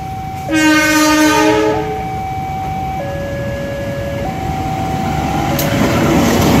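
A train hauling ballast wagons passes close and loud with a steady rolling rumble, while its horn sounds in long blasts that shift in pitch.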